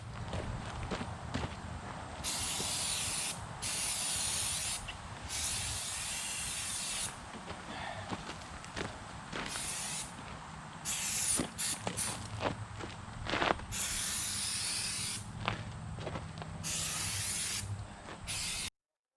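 Repeated bursts of silicone spray hiss from an aerosol can applied to the hydraulic hoses and boot area of a Mahindra eMax 20S HST compact tractor, several long and short sprays close up, with light footsteps and handling between them.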